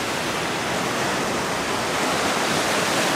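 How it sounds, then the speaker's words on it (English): Big waves break steadily on the shore of a vast lake in the wilderness, a loud, continuous rushing wash of surf with no talk over it. "Big waves breaking there."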